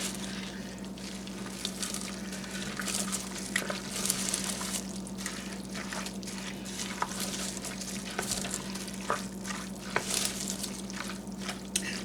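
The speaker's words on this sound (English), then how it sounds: "Stir this in well." A cabbage roll casserole mixture is stirred in a pan, giving soft, moist squishing and scraping strokes over a faint sizzle and a steady low hum, fairly quiet throughout.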